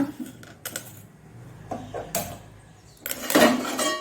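A metal pan clanks and rattles as it is set on a stove, several sharp knocks and scrapes close by, ending in a louder clatter, with no talk.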